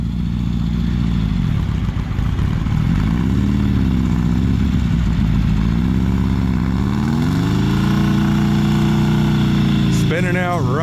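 A dad's hot-rodded 1970s VW Baja Bug does donuts in the snow, its air-cooled engine loud and close, droning and rising and falling in pitch as it revs. A voice is heard briefly near the end.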